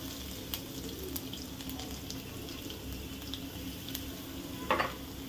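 Cumin seeds and three or four crushed garlic cloves sizzling in hot oil, a quiet steady sizzle with faint stirring clicks and a brief rush near the end.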